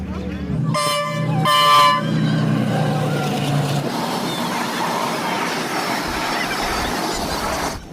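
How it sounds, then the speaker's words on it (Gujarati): A loud train horn blares twice in quick succession, then a long rumbling rush of the train passing close by continues steadily, heard by schoolchildren waiting nearby. "આવશે આવશે હમણાં આવશે ટ્રેન"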